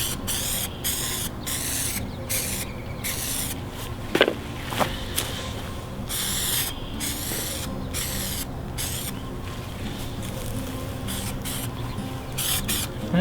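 Spray can hissing outdoors on a lawn while painting a vambrace emblem, with repeated short bursts of spraying and pauses between them, fairly close and steady.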